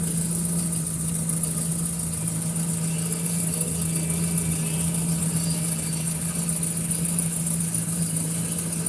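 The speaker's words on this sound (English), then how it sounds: "the way it's idling is crazy" A boat engine idles roughly with a constant hum and a high whine, running continuously without changes in pace.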